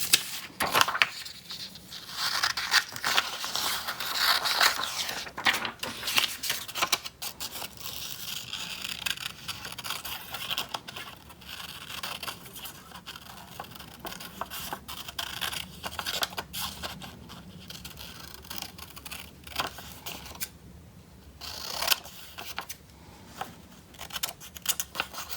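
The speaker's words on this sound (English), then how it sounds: "Let me cut that out first." Scissors cut out a paper mermaid corner bookmark with a rapid series of close, crisp snips and rustles. Short pauses come between the cuts as the paper is handled.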